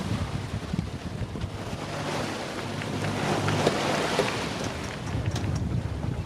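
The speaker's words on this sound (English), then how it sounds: "as you can see we've got a nice chunky sea. Quite big swell." Strong wind roars across a sailing boat in a big, chunky sea swell, with waves sloshing and rushing against the hull in a loud, continuous wash and no talk.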